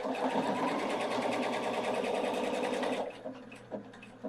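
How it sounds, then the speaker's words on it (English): A Pfaff 710/720 sewing machine runs flat out at full pedal in a dense, steady whir for about three seconds, then stops abruptly for its programmed lock stitch and thread cut, leaving a few soft mechanical clicks. "I'm flooring the foot pedal the whole time, and it cuts. That is a programmable lock stitch."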